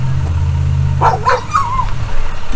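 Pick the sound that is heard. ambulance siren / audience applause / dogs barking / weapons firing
dogs barking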